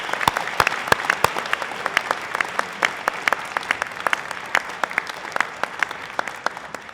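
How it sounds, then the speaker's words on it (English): A large audience claps continuously at a university graduation ceremony, a dense, even patter of many hands with a few sharp individual claps near the start. "Let's give them a big round of applause."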